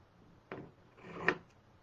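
Scissors cutting inch squares from doubled, folded fabric for quilting, two soft close snips with a brief rasping slide between them, in a quiet room.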